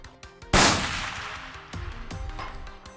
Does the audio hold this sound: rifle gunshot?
yes